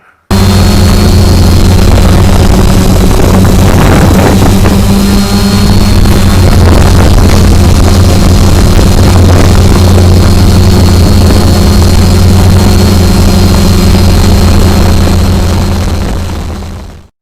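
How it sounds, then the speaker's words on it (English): An XK X-380 quadcopter drone hovering in place, its motors giving a loud, steady buzzing whine with strong droning tones, constant and close for the whole stretch. "I let it hover in place for a while, and I gave it a visual and audible inspection. Listen to your motors."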